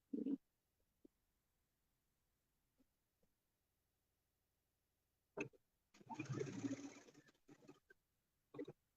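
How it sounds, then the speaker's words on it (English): A sewing machine stitches patchwork pieces together in one quiet burst of rapid whirring lasting about a second and a half, set among faint clicks and handling noises in an otherwise silent room. "Now I'm sewing my pieces right side together so that when I open them up, the right side will be out."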